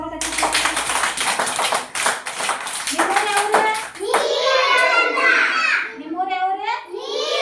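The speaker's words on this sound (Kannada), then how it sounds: "ಮುಂದೆ ಕೆಳಗೆ ಚಪ್ಪಾಳೆ ಹಾಕಿ ಜೋರಾಗಿ" Anganwadi children clap loudly in a quick, ragged burst of small hands, then the clapping gives way to children's voices chattering and calling out close by.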